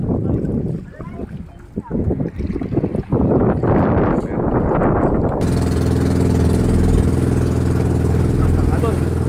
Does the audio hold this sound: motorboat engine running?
yes